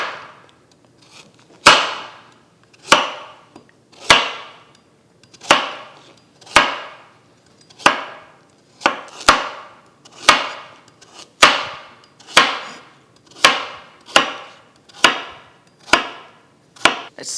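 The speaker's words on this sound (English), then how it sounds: "We're going to go in with 3 carrots, and I'm just going to cut them up into bite-sized pieces" A knife chops three carrots into bite-sized pieces on a cutting board, with about sixteen sharp, crisp strikes in a steady rhythm of roughly one per second. The strikes sound close and clear, with no talk.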